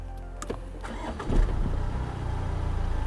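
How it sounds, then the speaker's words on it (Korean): Jaguar XE 2.0 diesel cranks briefly and catches, settling into a low, steady idle heard from inside the car, fairly quiet. "시동 한번 걸어볼게요."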